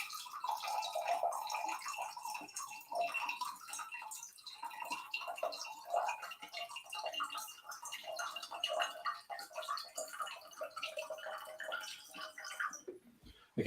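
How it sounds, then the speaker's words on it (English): Water dripping and trickling from a leaking fridge, faint close patter of irregular drops and light splashes continuing steadily with no talk. "something's dislodged in there that's leaking when I pour a drink"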